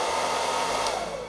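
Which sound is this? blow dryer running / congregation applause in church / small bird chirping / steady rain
blow dryer running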